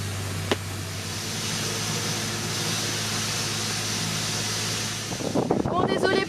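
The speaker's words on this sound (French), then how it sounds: "désolé pour ce bruit, c'est les gens qui sont en train de sabler à côté" Sandblasting on boats close by gives a steady, loud broadband hiss with a low hum for about five seconds, then shifts into choppier, rougher bursts toward the end.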